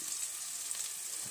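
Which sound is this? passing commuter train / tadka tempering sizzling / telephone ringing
tadka tempering sizzling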